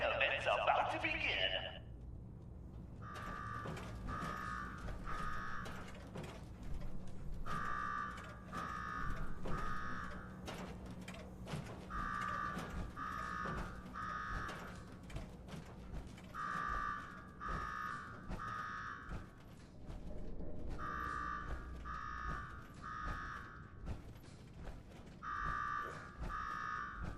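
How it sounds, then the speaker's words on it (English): In the video game Fallout 4, an alarm rings in repeated bursts of three to four electronic buzzing pulses separated by short gaps, steady and fairly loud, over a low background hum. "Now go shut off that damn alarm."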